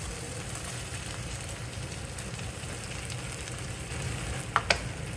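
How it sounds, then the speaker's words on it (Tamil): Onions and tomato sautéing in oil for a restaurant-style chicken gravy, a constant soft sizzle and crackle with a couple of sharp utensil clinks near the end. "அரைச்ச வெங்காயத்தோட பச்சை வாசனை போகிற வரைக்கும் வதக்கணும்."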